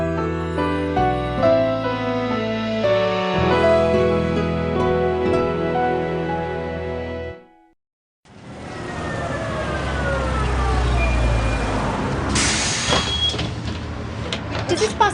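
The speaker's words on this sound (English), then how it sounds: "Here she is, catching the bus." A city bus pulls in and comes to a halt, its engine rumbling loudly and air brakes hissing near the end, following a stretch of music that cuts to silence before the street scene begins.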